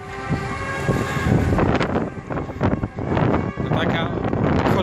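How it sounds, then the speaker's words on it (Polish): Heavy trucks roll past on a road in Dungannon, a loud rumbling traffic stream with swelling passes and wind buffeting the microphone. "Jadą ciężarówki."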